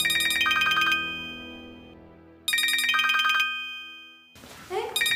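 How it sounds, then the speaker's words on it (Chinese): A phone rings with a bright melodic ringtone in two repeated bursts separated by a pause, loud and close, with a voice speaking briefly at the end. "你这电话一直响，你怎么不接呀？"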